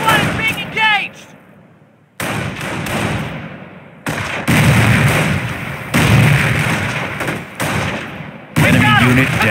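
A St. Lô battle in the 2006 PC strategy game Company of Heroes: dull thuds, explosions and gunfire burst repeatedly in loud, choppy stretches, with soldiers' voices shouting over the combat.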